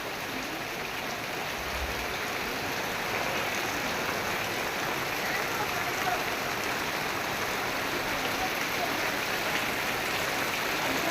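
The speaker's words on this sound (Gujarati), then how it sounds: "જોરદાર વરસાદ ચાલુ છે" Heavy monsoon rain pours steadily in Kherana village, a dense continuous hiss of falling water and splashing that stays loud and unbroken throughout, with no voices.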